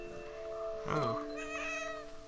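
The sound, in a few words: cat meowing in What Remains of Edith Finch video game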